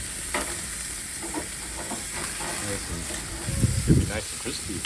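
Marinated chicken sizzles and fries on a grill as pieces are turned over, a steady crackling hiss with brief clatter of handling, growing louder near the end, with faint voices at times.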